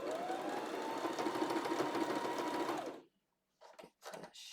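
Sewing machine running a steady, loud stitching burst for about three seconds while sewing fabric for an off-shoulder tie-top, then stopping abruptly, followed by a few short handling noises.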